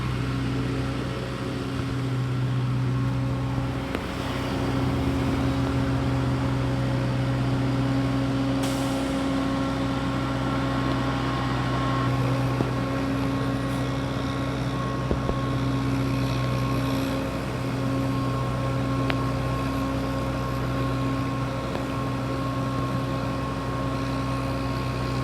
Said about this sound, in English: That's really loud. It's a Mint Hill Public Works truck.